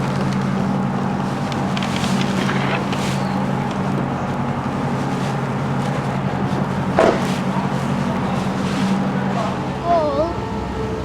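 A low, steady ferry engine drone hums throughout alongside rushing wind and water, with a few faint voices and brief squeaks near the end, leaving the Isle of Mull.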